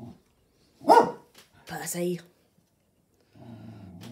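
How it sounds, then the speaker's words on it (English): Dog barking indoors, two sharp close barks followed later by a lower growly rumble, with a person speaking briefly near the start. "Excuse my dog, he's obviously seen something outside."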